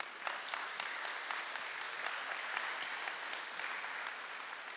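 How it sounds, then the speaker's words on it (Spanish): A church congregation claps in praise during a sermon, a sustained, even round of applause from many hands, moderately distant and without speech over it. "¿Puede dar un aplauso al Señor por eso?"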